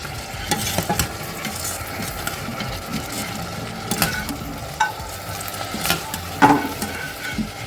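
An egg fries in a pan with a steady low sizzle, broken by a string of spatula scrapes and taps against the metal at an uneven pace, close and moderately loud, with no voices.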